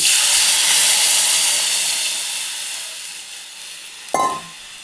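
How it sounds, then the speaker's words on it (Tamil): Loud steady hiss and sizzle of water poured into a hot pan of fried ginger and green chillies, slowly fading over a few seconds, with a brief clink near the end. "ஒன்றுக்கு 2 தண்ணி விடணும்."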